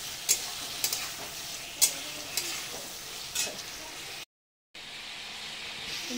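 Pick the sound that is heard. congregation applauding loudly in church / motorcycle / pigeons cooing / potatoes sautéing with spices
potatoes sautéing with spices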